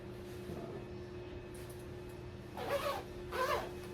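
Two quick pulls of a clothing zipper, close and moderately loud, separated by a short pause, over a steady low background hum.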